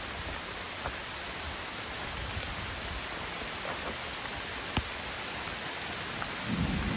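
Steady heavy rain hisses throughout, with a few sharp cracks and a low thunder rumble building near the end.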